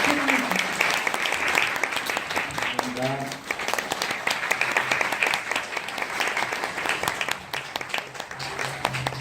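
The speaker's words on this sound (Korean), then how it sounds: "오늘 자리에 함께해 주신 배우 여러분들께 다시 한번 큰 박수 부탁드리겠습니다." A theatre audience applauds the actors at the close of a post-show talk for the play Orphans, loud sustained clapping throughout, with a few brief spoken words near the start.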